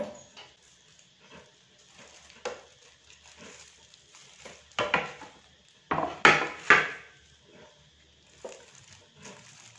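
A plate is set down and fish patties wrapped in lolot leaves are placed on it in a home kitchen, heard as a run of clinks and knocks of crockery and utensils that grows louder toward the middle, with no talk.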